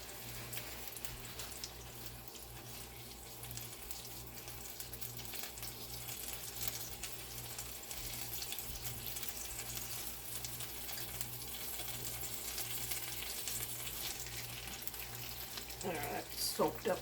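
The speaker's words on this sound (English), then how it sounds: "And I'm going to pour this on the hamburger patties." Liquid is poured over hamburger patties frying in a pan, giving a continuous faint sizzle and hiss with a low, steady background hum.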